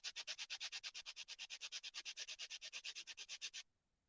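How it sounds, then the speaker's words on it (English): Laser-cut wood pieces being sanded by hand in a quick, steady back-and-forth rhythm of about thirty close, even strokes, then stopping abruptly. "give it a good sanding"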